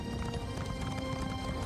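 Horse hooves clip-clop steadily in Elder Scrolls Online: Morrowind, a close, continuous trotting rhythm with a faint whinny-like tone mixed in.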